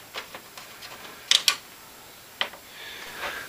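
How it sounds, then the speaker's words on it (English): The top panel of an AZZA Fusion 4000 ATX super full tower case comes off after two thumb screws at the back are removed: a few light close clicks and taps, then a soft sliding scrape as the panel slides back. "What you do is you take out the 2 thumb screws at the back, slide this back, and it comes right off."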